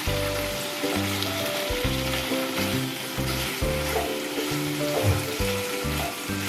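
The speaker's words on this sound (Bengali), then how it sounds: "গ্যাসের ফ্লেমটাকে একটু বাড়িয়ে নিচ্ছি একটু আমি ভাজা ভাজা করব" Chicken frying in a pan over a gas flame turned up, a steady close crackling sizzle with stirring scrapes and a low rhythmic tonal hum underneath.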